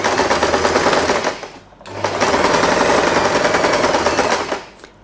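A sewing machine stitches a fabric-covered headband in two loud, steady runs of rapid mechanical chatter, broken by a short pause near the two-second mark.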